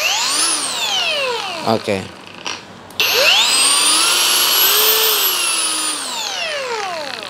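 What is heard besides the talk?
NRT PRO TG 99DC cordless 4-inch angle grinder running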